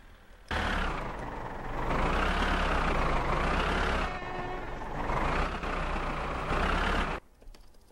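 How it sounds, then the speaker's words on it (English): Tractor engine in the driving game My Summer Car, a steady loud droning rumble that rises and falls slightly in pitch, then cuts off near the end. "I'm trying to figure out how to turn the tractor"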